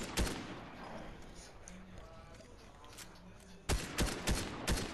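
Gunfire in a shooter video game: a sharp early burst, then a lull with someone talking, followed by a rapid volley of several loud close shots near the end.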